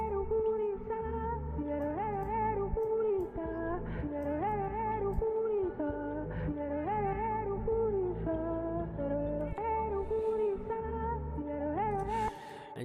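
FL Studio Afrobeat-style beat with Gross Beat sidechain pumping, multi-band compression, old-school reverb and auto-tuned melodic lines, playing continuously with steady rhythmic bass and chords at moderate level.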